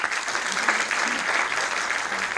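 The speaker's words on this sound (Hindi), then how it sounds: "ओम प्रकाश आदित्य सम्मान के लिए भी आप इनके लिए तालियां बजाइए।" Audience applause at a kavi sammelan poetry and music event, a steady dense wash of clapping that holds evenly for the whole stretch, fairly loud, with a few voices faintly mixed in beneath.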